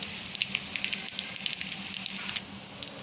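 Vermicelli fries in hot oil in a large kadai over a low flame, giving a steady soft sizzle punctuated by frequent small crackling pops, fairly quiet and close with no voices.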